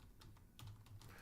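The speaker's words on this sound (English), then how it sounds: "that was me typing on Twitch" Rapid, quiet clicks of fingers typing on a computer keyboard, irregular taps clustered close together over a low steady background hum, with no voices.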